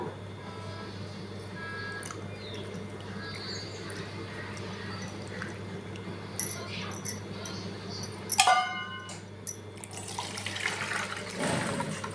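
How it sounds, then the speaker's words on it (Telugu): Soaked seeds are rinsed in a sink with water splashing and swishing, quiet at first with a low hum underneath, then louder bursts of running water and clinks toward the end. "ఒక three to four times wash చేసుకోవాలండి బాగా నేను మీకు వాష్ చేసి చూపిస్తాను"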